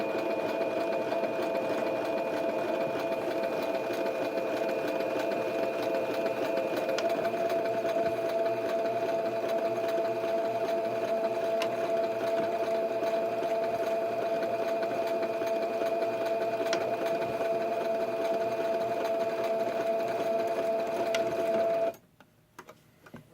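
Sewing machine stitching across a sleeve seam, running steadily with a loud, even mechanical whir for about twenty seconds before stopping abruptly, followed by a few faint handling clicks.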